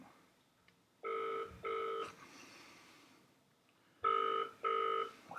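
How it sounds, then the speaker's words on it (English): A telephone ringback tone on an outgoing call to an Irish number sounds as two double-ring bursts, spaced a few seconds apart, clear and alone. "We have a ringtone."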